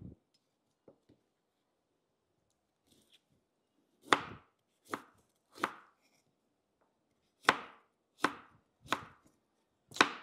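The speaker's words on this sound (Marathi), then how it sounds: "आता आपले भाजलेले कांदे आणि खोबरं थंड झालेले आहे, त्यांना आपण कट करून घेऊ।" A knife chops through roasted onion and coconut on a board, about seven crisp, close cuts coming in uneven bursts after a few faint taps.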